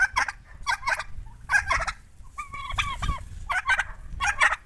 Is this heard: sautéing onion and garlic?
no